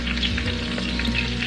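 Garlic sizzles in a pan alongside butter and a steak, a loud, steady frying hiss with stirring texture and no voices.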